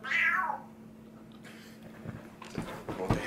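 A cat lets out a loud, close meow right at the start, followed by quieter room noise and some faint movement and bumps.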